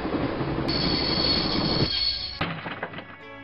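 A train passing by in the video game Broken Sword, with loud rumbling, a high squeal of wheels that cuts off abruptly, then fading clatter.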